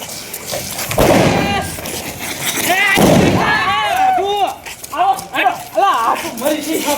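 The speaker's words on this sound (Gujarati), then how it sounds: "ફોડો ફોડો ટીટા ફોડો" Diwali firecrackers burst in loud sharp bangs, two big blasts early on, amid lively shouting voices and excited chatter outdoors.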